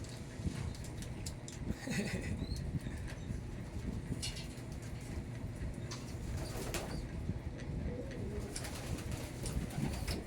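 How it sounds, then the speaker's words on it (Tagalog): Young pigeons coo steadily at a loft, their soft repeated calls layered over constant low background noise, with no talking. "Naiinitan yung ating mga young bird."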